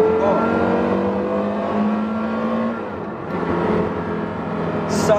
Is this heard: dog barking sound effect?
no